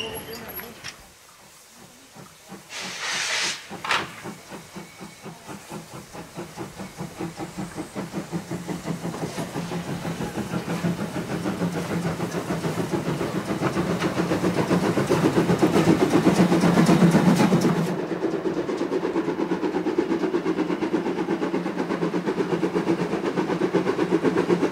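Narrow gauge steam trains pull out of a junction station in Saxony, a steady, loud chuffing and hiss with rolling wagon noise building over about twenty seconds, then easing slightly; a short whistle-like burst sounds early.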